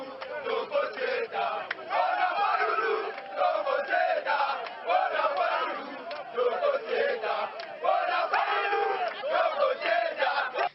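A crowd of Lamuka supporters converging on Kinshasa's Njili international airport, chanting Martin Fayulu's name in loud, steady rhythmic waves of massed voices that rise and fall throughout.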